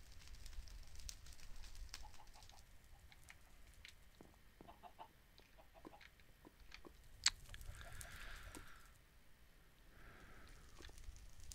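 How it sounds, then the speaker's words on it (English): Chicken clucking in a block-building video game, short soft clucks scattered over a quiet background with faint in-game clicks and rustles. "Chicken."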